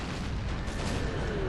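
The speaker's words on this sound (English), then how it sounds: "I believe one of my cannons will probably fire towards the general" Cannon artillery fire in Napoleon: Total War on a Gettysburg battlefield. It comes as a dense, continuous rumble of booms and distant blasts, loud and unbroken across the short stretch, with no voices.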